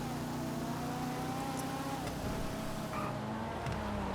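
A Voodoo Custom car racing in GTA 5, its engine droning steadily near and loud with a rising and dipping pitch as it shifts and revs, carried on alone without talk.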